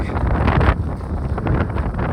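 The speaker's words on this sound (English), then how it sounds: "We'll go out there, but it's windy." Strong wind buffets the microphone in a continuous, roaring rumble with gusty swells and no voices.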